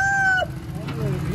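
A rooster's crow trails off at the very start, followed by murmuring background noise and faint distant sounds at a bird market in Sialkot.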